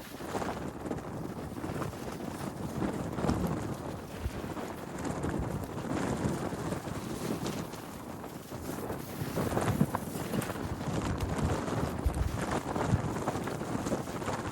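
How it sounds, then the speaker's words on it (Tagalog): Strong wind buffets the microphone at a fishing spot, a continuous rough low rumble that swells and eases slightly, with no talking. "Lakas ng hangin."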